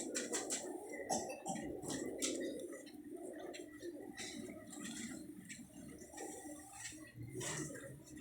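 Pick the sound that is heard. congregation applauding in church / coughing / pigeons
pigeons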